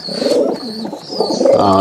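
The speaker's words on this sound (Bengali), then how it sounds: "এই একটা মাদি কবুতর" A female pigeon cooing, giving low throaty coos close by over a background of other birds' calls.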